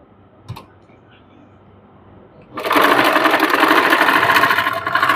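After a quiet pause and a single click, a sewing machine starts stitching a trouser hem, running loud and steady at close range for the rest of the stretch.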